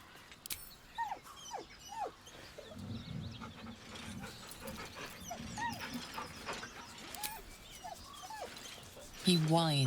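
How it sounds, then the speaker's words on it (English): A dog in Baldur's Gate 3 gives several short, high whines and whimpers spread across the scene, over game ambience, ending with a louder drawn-out whine. "He whines, but remains rooted by the corpse's side."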